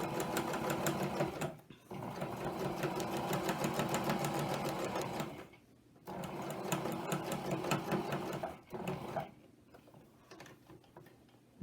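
A sewing machine stitches around a quilted coaster in quick, rattling bursts, pausing briefly three times as the work is pivoted. Each run starts again at the same busy, close-up speed.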